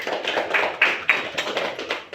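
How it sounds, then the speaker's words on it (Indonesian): A group of children clap their hands together in a lesson setting, a quick run of sharp claps with a few louder, distinct strikes, close and alone with no talking. "Oke, tepuk tangan"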